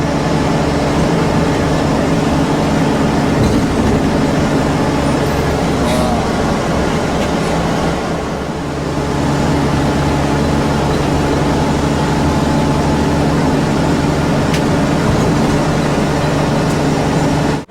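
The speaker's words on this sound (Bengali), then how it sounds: "আমাদের বাসটা এবার টানেলে ঢুকছে।" A tour bus in Rajasthan near Mount Abu drives into a tunnel, with a loud continuous engine and road rumble that dips briefly partway through, then swells back.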